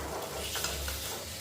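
Meat tossed into a pan of lightly fried potatoes for a home-cooked meat dish, giving a steady close sizzle with soft stirring and faint utensil scrapes over about a second and a half, no voices.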